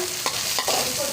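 Garlic and onion fry in a hot pan with a close, dense sizzle, broken by a couple of quick stirring scrapes, all without speech.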